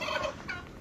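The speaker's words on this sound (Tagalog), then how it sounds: "Oh, at ayan yung mga pabo namin." Turkeys on a small farm gobble in a quick, warbling burst, fairly close and clear, with a second short call at the end.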